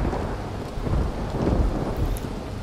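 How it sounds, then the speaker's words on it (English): Rolling thunder rumbles over steady rain in the Roblox Vehicle Simulator game, a loud low roar swelling and fading across the clip with no talk. "Big thunder."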